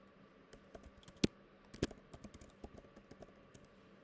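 Quiet computer keyboard typing, an uneven run of light key clicks with two sharper, louder strokes, close and alone without talk.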